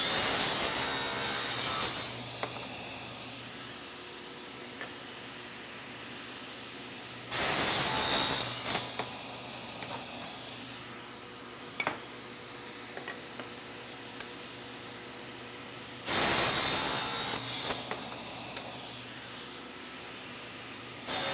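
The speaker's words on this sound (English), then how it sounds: "Now I'm going to come back and I'm going to cut all the other ends off" Three loud, rasping saw cuts through wood ends guided by an INCRA miter gauge, each lasting about two seconds and separated by long quieter stretches of low hum and small clicks and knocks.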